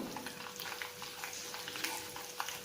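Chana dal and seasoning frying in hot oil for banana stem dosa, a steady soft sizzle with small crackling pops, close and continuous, with no voice over it.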